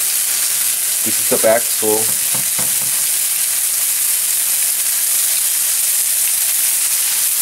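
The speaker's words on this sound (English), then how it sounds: "I just did a little oil on the bottom, and we're gonna sear our fish." Cod fillet sears in a little oil in a pan, giving a constant bright, loud sizzle and hiss, with someone speaking briefly over it early on.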